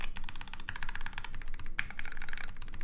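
Close, rapid typing on a GSKT-00 mechanical keyboard, with dense continuous keystroke clacks at an even fast rhythm and a few slightly louder taps.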